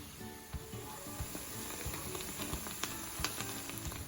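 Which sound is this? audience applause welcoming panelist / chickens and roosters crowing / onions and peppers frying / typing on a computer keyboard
onions and peppers frying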